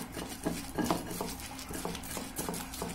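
Nalleru chutney is ground by hand in a stone mortar, giving repeated gritty scrapes and light knocks in an uneven rhythm, close and moderately loud.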